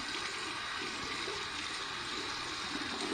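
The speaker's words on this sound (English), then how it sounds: "Let me rinse off the Defender here." A Defender safety razor head is rinsed under a running tap, giving a steady, fairly soft rush of water with no breaks over a few seconds.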